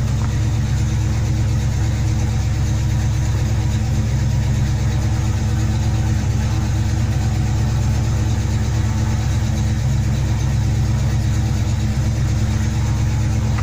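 A big block Mopar V8 in a car idles on and on, a loud, even, low rumble with a slightly lumpy pulse that holds steady throughout, with no talking.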